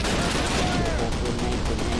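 Dense, rapid gunfire rattles loud and continuous in the video game Call of Duty, with bursts overlapping and a voice talking faintly underneath.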